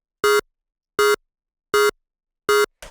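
Synth stab built from a square-wave wavetable pitched an octave and a fifth up, heard as four identical short buzzy hits in an even rhythm with a brief trailing fragment, loud and alone.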